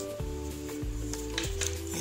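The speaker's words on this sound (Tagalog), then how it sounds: "iprito na muna natin yung hipon. Iprito natin sa butter." Continuous sizzling of shrimp frying in butter in a hot pan, with steady tonal sounds running underneath throughout.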